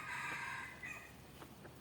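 A fighting rooster, a favourite bird being washed, crows once in a short, faint call with a drawn-out note, followed by a couple of softer trailing sounds.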